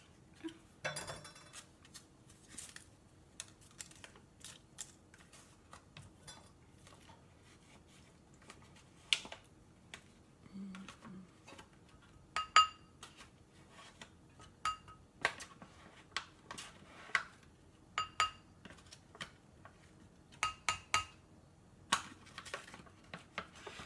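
A can of tuna being opened, quiet irregular metallic clicks, clinks and short scrapes scattered through the clip, with no talking.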